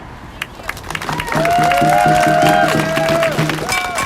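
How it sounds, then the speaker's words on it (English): Outdoor crowd at a justice rally for Ma'Khia Bryant outside the Minnesota governor's residence breaks into loud, sustained applause and cheering, swelling after a quiet start with a voice heard over it. "Give her another round of applause, please."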